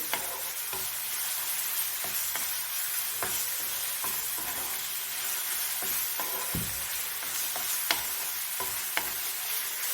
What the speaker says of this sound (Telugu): అల్లం వెల్లుల్లి పేస్ట్ వేస్తున్నాను ఇది కూడా పచ్చి వాసన పోయేంత వరకు వేయించుకోవాలి